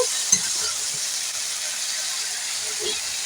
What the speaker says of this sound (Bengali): মশলা ভাজা হয়ে গেছে দিয়ে দেব এই মোচার সেদ্ধটা